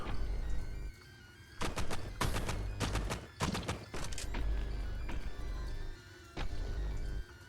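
Rapid bursts of gunfire in the video game Caves of Qud, several loud clusters of shots rattling off in quick succession with short pauses between volleys.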